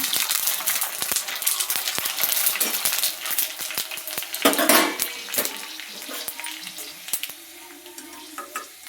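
Pani puri frying in hot oil on a low flame, with a steady crackling sizzle and scattered clinks and bubbling pops throughout, rising briefly in intensity midway.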